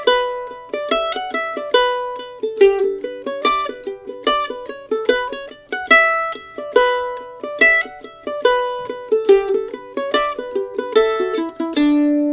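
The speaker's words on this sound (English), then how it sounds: "let's see if we can only accent the first and the third beat of the measure" A mandolin is strummed in a steady rhythm of downstrokes, with the first and third downstrokes of each measure accented. It is played alone, clear and close, with bright plucked chords repeating measure after measure.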